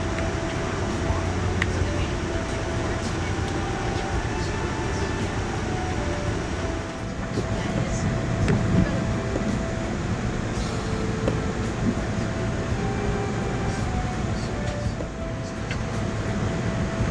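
Amtrak's original Acela Express pulls out of Baltimore Penn Station, heard from inside as a steady low rumble and hum of wheels and motors, with faint speech in the cabin.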